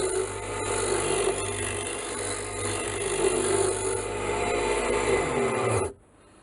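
A tool rounds a wooden workpiece for a whirligig lure with a continuous close rasping, grinding whir that holds steady for about six seconds and then stops abruptly, with no talking.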